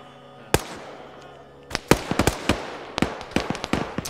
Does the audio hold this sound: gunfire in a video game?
yes